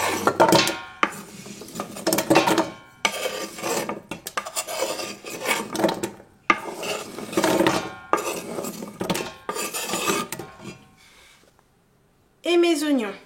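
Carrots tipped into olive oil in a cooking pot, giving repeated close scraping and clattering bursts of pan and utensil noise while someone talks in French throughout.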